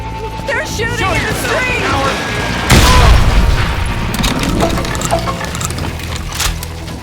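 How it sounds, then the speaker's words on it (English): Gunfire rings out in a street shootout in the Western video game Call of Juarez Gunslinger, with a heavy boom near the middle and scattered shots and clatter around it, loud and close. "They're shooting in the street!"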